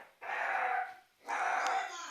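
Two sustained, harmonic dog barks or howls, each lasting over half a second with a short gap between, fairly close and loud.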